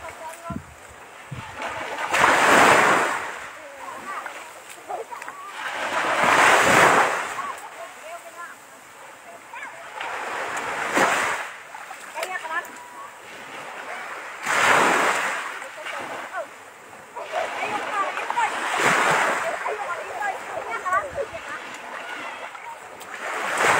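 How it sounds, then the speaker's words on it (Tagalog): Sea waves break on the shore at Balud, Masbate, in slow, regular swells of rushing surf every few seconds, fairly close, with wind on the microphone and voices faintly in the background. "Yung tunog ng alon, masarap."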